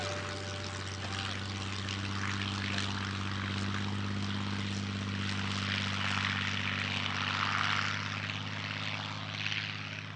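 Messerschmitt Bf-109 fighter plane with its Daimler-Benz propeller engine at an airshow, a steady loud droning roar holding throughout with no talk.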